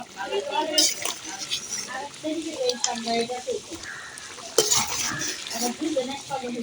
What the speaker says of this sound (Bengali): আমি নাড়া দিয়ে দিব।